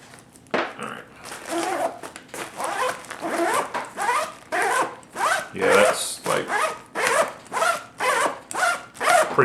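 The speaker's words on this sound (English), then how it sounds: "That's doing the zippers and everything with the zipper grease or zipper wax." A zipper treated with zipper wax is run back and forth repeatedly, giving a close, rhythmic series of loud rasping zips with brief gaps between strokes.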